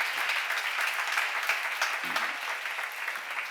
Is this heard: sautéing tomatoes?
no